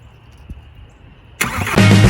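A swapped TDI diesel in a Volkswagen Caddy barn find cranks over from a starter wire after a quiet pause, then catches and settles into a loud rough idle.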